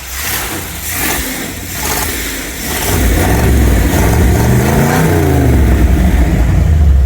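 A 1977 Chevy van's engine rumbles through its exhaust, then is revved harder, swelling into a loud, deep, sustained roar heard up close with no talking.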